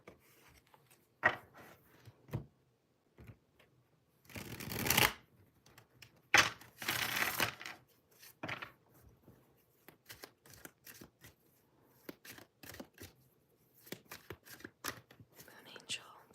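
A tarot deck is shuffled in quiet, close bursts of riffling and soft card rubbing, separated by pauses, with faint whispered speech between the shuffles.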